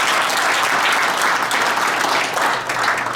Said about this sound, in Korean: 참석하신 모든 분들을 환영하는 의미에서 다 함께 큰 박수 부탁드리겠습니다.